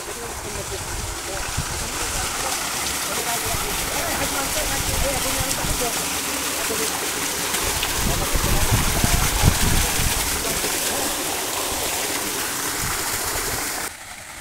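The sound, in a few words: water gushing out from a solar-powered irrigation pump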